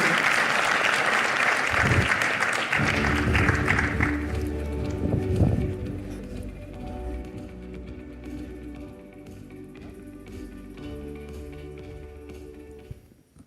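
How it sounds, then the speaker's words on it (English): Audience applause fills a live business conversation event, loud and dense for about five seconds before thinning out under soft background music. "Warm round of applause, please."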